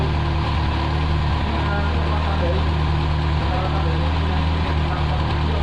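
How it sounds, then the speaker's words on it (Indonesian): A car engine runs steadily during a tune-up while its RPM is adjusted, a constant close mid-pitched hum with no clear change in speed, with talk over it. "Lalu kita turunkan putaran mesinnya"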